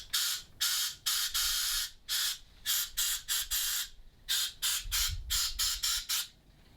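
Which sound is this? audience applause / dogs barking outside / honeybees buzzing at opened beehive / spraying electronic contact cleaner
spraying electronic contact cleaner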